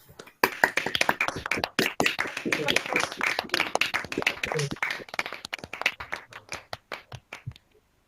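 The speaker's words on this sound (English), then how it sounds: "I now warmly welcome you to unmute yourselves and cheer and clap for each other" A crowd of people at an online graduation ceremony claps steadily for several seconds, a dense patter of hand claps with scattered cheering, fading out at the end.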